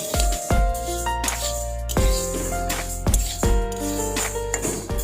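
Lentils being dry-roasted in a pan for khichuri, giving a steady rattling and scraping as they are stirred, with a few stronger strokes over a continuous tonal hum in the background.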